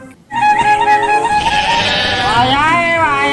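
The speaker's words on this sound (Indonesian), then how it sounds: "Ternyata domba biri-biri." A sheep bleats loudly and close, a long wavering cry that starts abruptly after a brief pause and runs steadily to the end, with no speech over it.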